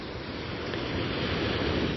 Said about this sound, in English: you can hear the dropping tide's waves lapping at the shoreline